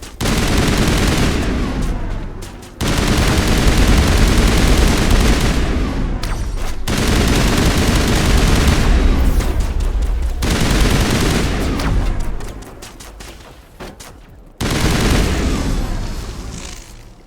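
Mass Effect 1 turrets fire in sustained, loud bursts of rapid gunfire and booms, with several sharp breaks between volleys in a long battle.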